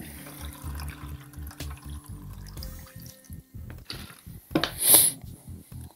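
Water trickles and splashes faintly as it is poured onto a grinding wheel on a chisel-sharpening setup, amid light mechanical clicks and knocks, with a brief louder splash near the end.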